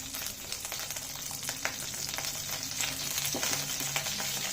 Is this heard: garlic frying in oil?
yes